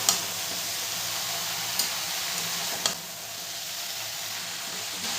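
Spinach stirred in a frying pan for a Bengali winter-vegetable chorchori gives a continuous soft sizzle, with a few sharp scrapes and taps of the spoon against the pan.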